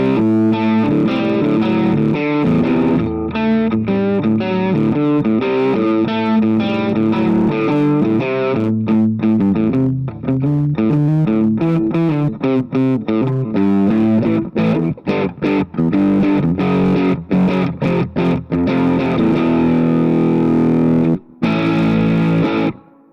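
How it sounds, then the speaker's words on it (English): Electric guitar played through a Tube Screamer overdrive on a Positive Grid Spark 40 amp, a loud, boxy, driven tone with a fast run of picked notes and chords, plus reverb and delay, continuing without break and with no talking. "So very recognizable sound, boxy, you know, with that tube screamer."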